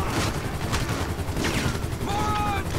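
Weapon fire in a destruction video game: several sharp gunshot bursts in quick succession over a rumbling background, followed by a ringing whistling tone, loud and close.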